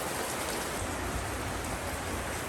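Heavy monsoon downpour pours down in a dense, steady hiss of rain with no breaks or voices.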